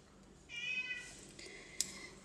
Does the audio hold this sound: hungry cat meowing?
yes